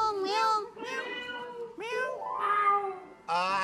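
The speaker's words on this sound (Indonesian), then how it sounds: "Kucing, itu kucing." A cat meows repeatedly and clearly at close range, several drawn-out, rising and falling calls in a row with short pauses between them.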